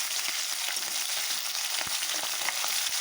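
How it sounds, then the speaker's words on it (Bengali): Khoka ilish, small hilsa fish, frying lightly in oil with a loud, continuous crackling sizzle, close up, punctuated by a few faint taps. "হালকাভাবে মাছটাকে আমি ভেজে নেব"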